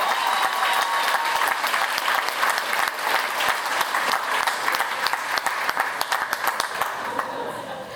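A graduation audience of families and friends claps at a nursing ceremony in a steady, dense wave of applause that holds for several seconds and then starts to thin toward the end.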